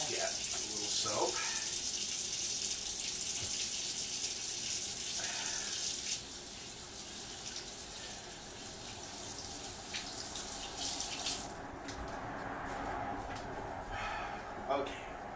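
Tap water runs steadily while hands are rinsed at a kitchen sink, the flow breaking and changing as hands move through it, with a person talking over it.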